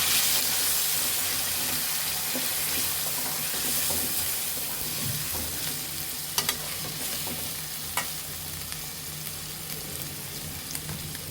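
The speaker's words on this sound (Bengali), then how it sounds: "এবং রসুন এবং আদা ভালোভাবে মিশে নিতে হবে" Garlic and ginger get stirred in a hot pan for a soyabean dish, a continuous sizzle with scraping spoon strokes and a few sharp clicks of utensil against metal near the end.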